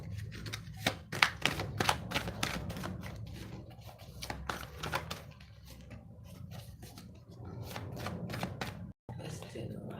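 A deck of tarot cards is shuffled by hand in a series of rapid, close riffling and snapping bursts, with a short pause before the card handling resumes.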